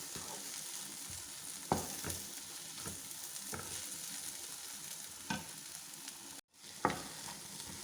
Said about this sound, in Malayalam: മസാലയെല്ലാം ചേർത്ത് ശരിക്കും വഴന്നു